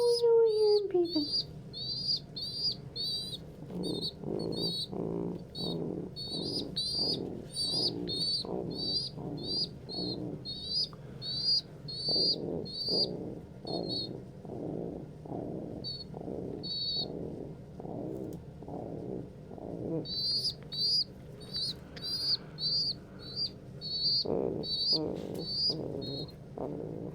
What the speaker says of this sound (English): I hear him peeping.